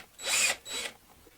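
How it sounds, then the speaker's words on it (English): A power drill drives a stepped bit into wood through a Kreg KPHJ320 pocket-hole jig set for 19 mm stock, boring a pocket hole in two loud, close, whining bursts, the first longer than the second. "and then I retract it a bit and I start drilling"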